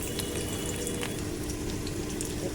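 Chopped ginger, dried red chilli and green chilli sizzling in hot oil in a kadai, a dense steady hiss with small crackles, loud and close, with no talk.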